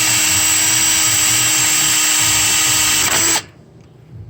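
A power drill runs steadily and loudly while drilling out EGR bolts on a 6.7 diesel engine, a continuous high whine close up that cuts off abruptly near the end.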